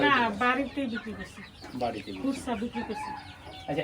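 Desi tiger chickens clucking on a poultry farm, close and continuous, with a person talking over the birds throughout.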